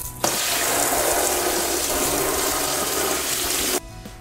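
Steady water spray from the hand shower of an Eco Campers Weekender Plus camper van, fed by its electric water pump, hissing loud and continuous for several seconds before cutting off abruptly.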